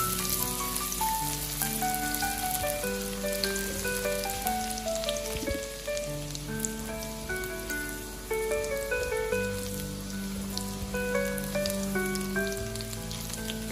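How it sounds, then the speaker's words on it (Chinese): Minced garlic and scallion whites stir-frying in hot oil in a wok, a steady crackling sizzle running beneath continuous background music. "油热之后，先把蒜末和葱白倒下去炒香"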